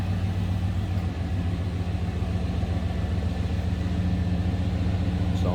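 A 1995 Chevrolet Silverado extended-cab 4x4 pickup with a 5.7 Vortec V8 idles steadily, a close, even low rumble with a constant hum and no talk.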